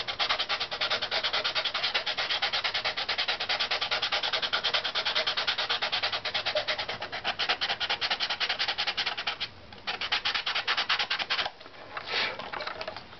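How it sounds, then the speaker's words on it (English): Sandpaper rubs rhythmically across a violin top plate in quick, continuous back-and-forth strokes, close and steady, with brief pauses near the end. "We only have to go a little bit up, so let's use the sandpaper."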